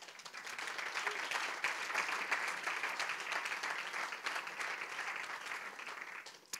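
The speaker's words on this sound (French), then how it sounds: "je crois que vous pouvez vous applaudir, vous, en fait." Audience at a church's sixth-anniversary gathering applauding, a sustained, fairly distant wash of many hands clapping at moderate, steady level before tapering at the end.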